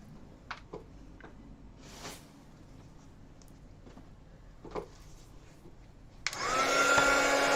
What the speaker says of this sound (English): I'm going to put this with the dryer.